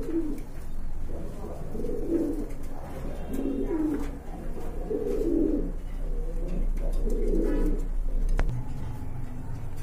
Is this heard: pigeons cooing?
yes